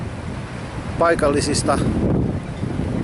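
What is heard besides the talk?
strong wind blowing outdoors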